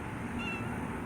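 A pet cat meows indoors, a single faint, thin call over steady background noise, close to the listener.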